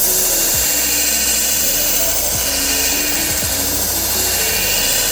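Steady, loud abrasive grinding continues without a break as a blade's bevels are sharpened on a power sharpener, with a few faint pitch shifts as pressure changes.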